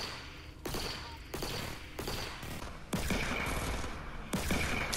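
Fortnite gunfire tearing into a wooden wall, bursts of shots arriving in several loud clusters with short gaps, dense crackling impacts sustained across the stretch.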